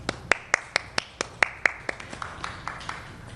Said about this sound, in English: So just a huge round of applause and thanks for your interpretation at this time